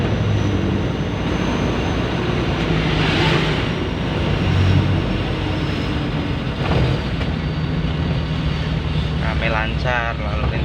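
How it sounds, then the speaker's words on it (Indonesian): Busy but smoothly flowing road traffic on a cloudy late afternoon in Tabanan, Bali: a steady, loud wash of passing engines and tire roar, continuous throughout with a brief faint horn-like sound near the end. "Rame lancar lalu lintas."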